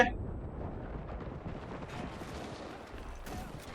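Gunfire and explosions in the World War II shooter game Enlisted form a muffled, rumbling barrage with a heavy low blast at the start and scattered shots after it, fairly quiet overall.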